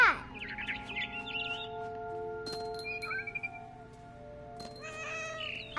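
A cat meows in the video game What Remains of Edith Finch, with a sharp opening cry and several short mews and chirpy calls over a steady ambient bed, alongside brief bird-like twitters.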